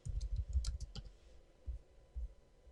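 Computer keyboard typed on in a quiet room, a short run of soft close key clicks followed by a few scattered taps.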